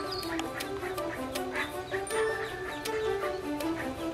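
Ducklings at a rescue keep up soft, high peeping and quacking in rapid, overlapping calls, close and steady throughout, with a faint voice underneath.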